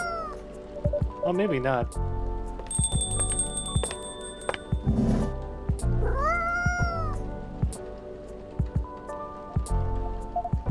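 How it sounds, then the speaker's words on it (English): Cat meows in the video game Coffee Talk, several drawn-out rising and falling calls over soft rain and background music, mixed with someone talking. "Oh, that's just the cat."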